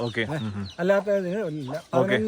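Close chicken clucking and warbling calls at a farm holding over ten thousand chickens, several bursts with short pauses, clear and moderately loud.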